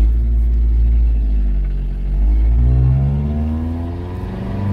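A Nissan Hardbody D21 pickup pulls away in first gear with a deep engine rumble that rises in pitch as it accelerates, eases briefly, then climbs again. No one talks.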